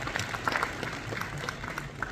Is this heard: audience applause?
yes